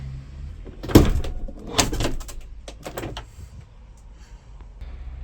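A sliding door lock being latched shut, a few sharp metallic clunks and clicks close by with quieter handling rattles between them.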